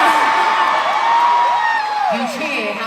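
A live show audience cheers and whoops loudly, a bright mass of voices rising and falling together and filling the hall, with a single voice sliding through near the end.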